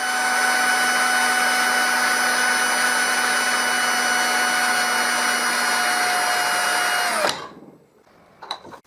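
A homemade disc sander with a wobbling disc spins at a steady high-pitched whine, close and loud, then cuts out abruptly and winds down into near silence, followed by a few faint clicks.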